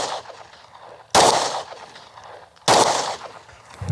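Pistol shots on a shooting range, two sharp loud reports about a second and a half apart, each with a short decaying tail over low background noise.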